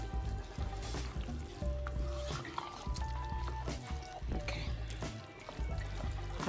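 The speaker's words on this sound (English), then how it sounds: "I'm going to add some water, not loads, because the rice is parboiled" Water is poured into a pot of parboiled rice for Nigerian jollof, a faint trickle amid kitchen clatter and low background sound.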